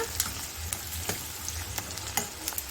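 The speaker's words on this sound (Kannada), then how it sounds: "ಈರುಳ್ಳಿ ಸ್ವಲ್ಪ ಕೆಂಪು ಬಣ್ಣಕ್ಕೆ ತಿರುಗಬೇಕು ಅಲ್ಲಿವರೆಗೂ ನಾವು ಎಣ್ಣೆಯಲ್ಲಿ ಇದನ್ನು ಬಾಡಿಸ್ಕೋಬೇಕಾಗತ್ತೆ" Onion, garlic and green chillies fry in oil for a drumstick and brinjal saaru, a low steady sizzle punctuated by quick, regular spatula clicks and scrapes as the pan is stirred, with no talking.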